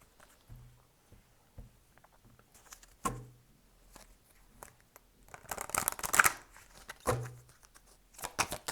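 Oracle cards shuffled and drawn by hand: soft riffling bursts and sharp card snaps recur over several seconds, with a denser flurry of shuffling in the middle, close and quiet, no speech.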